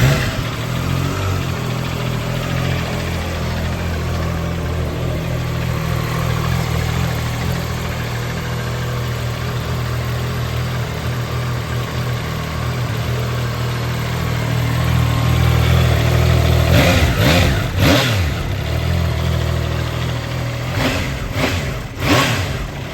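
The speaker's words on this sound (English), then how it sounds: "Nice sounding, smooth engine." A Triumph Tiger Sport 660 motorcycle engine idles nearby with a smooth, steady throb, then is blipped in a few sharp revs that rise and fall near the end, with no talking.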